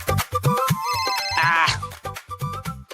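A mobile phone rings with a melodic, beat-driven musical ringtone, loud and close, playing continuously for a few seconds in a home scene.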